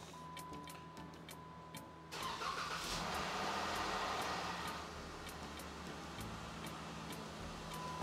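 A Jeep 3.6L Pentastar V6 engine turns over after an oil change and settles into a steady, smooth idle, running faint and even with a light hum and no ticking after a brief start.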